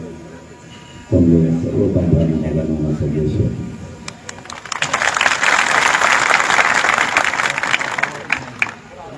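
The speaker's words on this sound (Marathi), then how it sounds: "तेवढ्या जल्लोषात स्वागत केलं आणि तेवढी तुफान गर्दी आहे" A large crowd roars and cheers at a pre-dawn outdoor political rally in Palam, Maharashtra, for a politician. A loud, sustained wash of crowd noise with sharp peaks follows an opening stretch of amplified speech.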